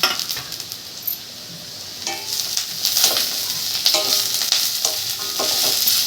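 Onion, ginger and garlic frying in a pan for dhaba-style anda masala, a loud close sizzle that swells as the pan is stirred, with a few scattered utensil clinks and no talking.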